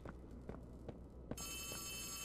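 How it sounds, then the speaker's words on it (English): In the video game Poppy Playtime Chapter 3, a phone starts ringing with a steady electronic bell tone after a few dull footstep-like thuds, continuing on and fairly quiet. "Phone's ringing."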